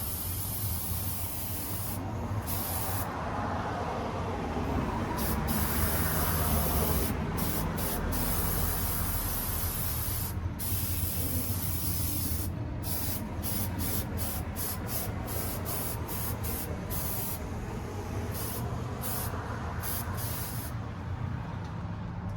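A spray gun hisses steadily as paint is laid onto a part ahead of hydrographic dipping. The close, continuous whoosh is broken by a few brief pauses.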